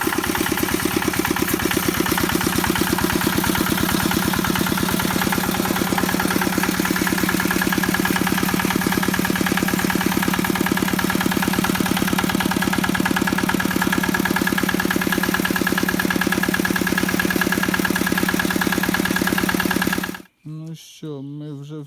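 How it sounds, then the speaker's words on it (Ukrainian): A Chinese 8 hp walk-behind tractor engine runs with its radiator removed, chugging loudly in a steady, even idle for about twenty seconds before it suddenly cuts off, leaving quieter handling noises. "заводка мотоблока"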